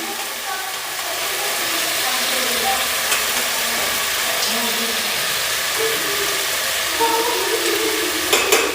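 Tomatoes with turmeric cook in a pan with a steady, even frying sizzle and hiss that lasts throughout, with a few soft stirring scrapes near the end.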